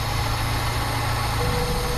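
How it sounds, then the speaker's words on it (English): A Honda Civic EP1 engine idling, a steady low rumble with an even mechanical hum throughout. "the car's been running for a while, idling"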